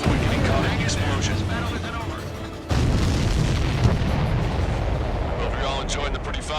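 A missile explosion in the video game Ace Combat 7, a loud booming blast followed by rolling rumble, with a second sharp burst partway through and layered game sound around it.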